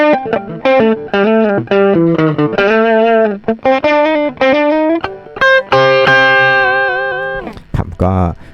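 Heavily distorted electric guitar through an MXR M115 Distortion III pedal, playing a run of notes and chords, ending on a sustained ringing chord, loud and up close.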